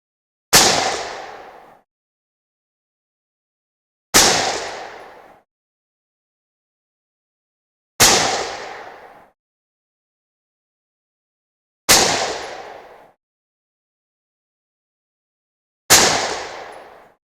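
.223 Remington rifle firing 70-grain Hornady GMX ammunition: five loud, sharp shots spaced about four seconds apart, each with a short decaying report, no talk.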